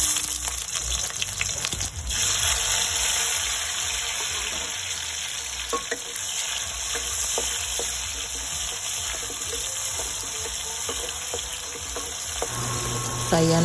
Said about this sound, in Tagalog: lutuin lang po natin yung ating kamatis